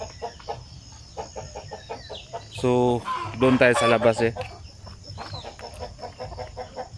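Native chickens cluck and call close by, with a loud crowing-like burst in the middle, over a bed of soft repeated clucks; someone speaks briefly at the start.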